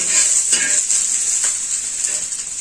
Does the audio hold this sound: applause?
no